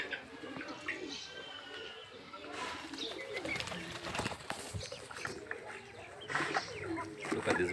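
Birds on a Kenyan poultry farm, with cooing and chirping calls close by. A person talks intermittently over the steady, busy bird sounds.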